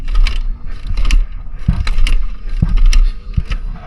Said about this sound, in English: Can we kickstart it in gear?